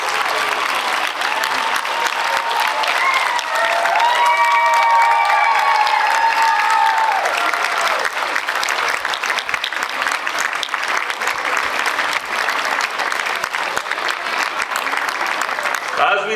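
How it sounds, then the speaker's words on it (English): An audience applauds school inductees at the Wichita Collegiate School Circle of Gold ceremony, with steady, sustained clapping and light cheering, a voice speaking over the applause early on. "let's give them a round of applause as they sit here in our chairs"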